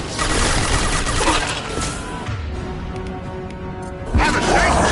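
Heavy weapons fire in the Mass Effect 2 video game: a dense, loud barrage of shots and impacts that dips briefly midway, then swells again, under a voice speaking.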